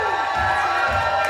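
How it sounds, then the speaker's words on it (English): A wedding crowd cheers and shouts for the flower girls in a brief loud burst, with whoops over dance music and pulsing bass. "let's give a big round of applause to our flower girls, Arian and Jade."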